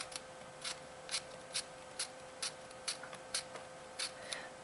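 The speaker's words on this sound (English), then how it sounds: "I'm going to cut it into little pieces, because it's going to cook up anyway" A knife chops eggplant into small pieces on a cutting board, with about ten crisp, evenly spaced cuts close by and no voices.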